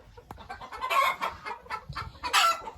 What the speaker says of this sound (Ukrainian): А це у нас півники Віандота.